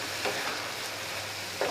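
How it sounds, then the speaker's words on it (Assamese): Flat beans fry and get stirred in a pan: a quiet, even sizzle with two soft scraping stir strokes, one early and one near the end. "আৰু এইখিনি অকণমান ভাজি ল'ম"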